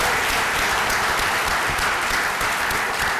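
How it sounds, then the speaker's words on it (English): Audience applause at a Social Business Day event, dense steady clapping from a sizable crowd that stays loud and even throughout. "Let's give them a big applause."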